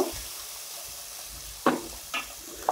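Ginger sizzles softly in hot oil in a home kitchen pan, a steady low hiss broken by three sharp scraping stirs of a spatula toward the end.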